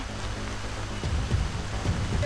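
Steady rain falls on an outdoor mountain trail, a dense, even hiss with scattered low patters running throughout, loud and continuous with no talk.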